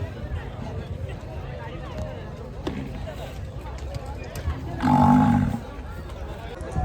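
Bulls gathered at a bullock cart race event in rural Maharashtra, with one low, loud moo rising briefly out of steady crowd murmur and outdoor background noise.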